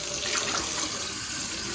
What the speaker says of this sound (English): Maybe I'll run it under the water.